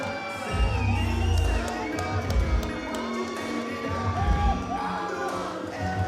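Crowd cheering and whooping as boxer David Hart walks into the ring at a Wicked N' Bad fight night, loud and sustained with shouts rising over the roar and some indistinct voices mixed in.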